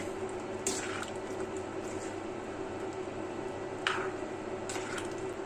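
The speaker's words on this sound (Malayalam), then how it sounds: "എന്നിട്ട് നല്ലൊരു ഇളക്കി അങ്ങോട്ട് മിക്സ് ചെയ്യാം." Kerala-style tomato curry being stirred after ground coconut and water go in: soft wet squelching and liquid sloshing in a pot, with a few brief spoon scrapes, quiet and close.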